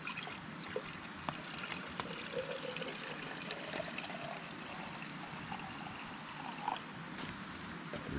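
Water trickles and pours from a Grayl Ti GeoPress filter into a bottle beside a remote river, a soft continuous splashing stream with a few small drips and gurgles, recorded close and quiet.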